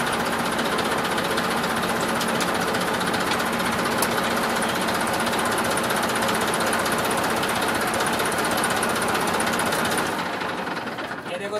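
A tractor engine runs at a steady, loud chugging idle with its PTO lift raised during double-clutch PTO clutch adjustment, a rapid knocking rhythm continuing throughout before tapering slightly at the end.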